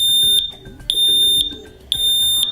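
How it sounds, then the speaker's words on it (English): A First Alert P900E photoelectric smoke alarm sounds its loud 85-decibel T3 pattern: piercing high beeps repeat in groups of three with short pauses between them, close by and with no voices. "When an alarm is triggered, you'll hear a loud 85 decibel T3 pattern chirp to alert you."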